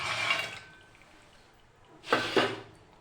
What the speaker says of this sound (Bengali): ভেজে রাখা ডালের বড়িগুলো দিয়ে দিচ্ছি।